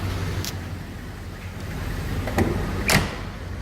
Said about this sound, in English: Hear how the doors close.